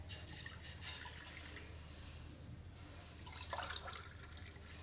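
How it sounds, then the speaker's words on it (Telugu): Water is poured from a glass into a cooking pot on the stove while making a dry ginger and pepper remedy, heard as a quiet, faint splashing trickle with a slightly stronger pour toward the end. "నేను ఈ గ్లాస్ తోటి ఒక 2 గ్లాసులు వాటర్ యాడ్ చేస్తానండి."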